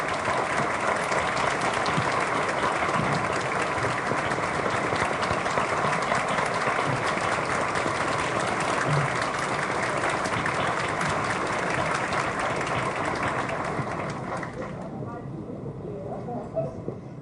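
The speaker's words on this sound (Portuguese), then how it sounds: "gostaria de convidar todos uma salva de palmas em sua homenagem" An audience at a conference gives a long, sustained round of applause in a tribute to a minister, dense clapping holding steady before fading toward the end, with faint voices in the background.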